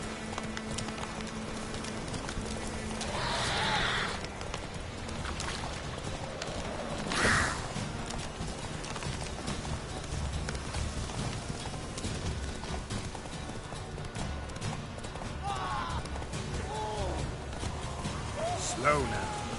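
Horse hooves trotting in The Witcher 3, a steady rhythmic clip-clop that continues throughout at moderate volume, with occasional voices and a brief whinny-like sound over it.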